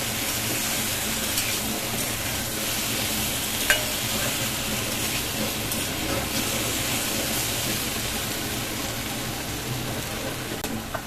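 Curry sautés in a pan with a dense, continuous sizzling hiss and faint scraping of stirring, steady and close throughout.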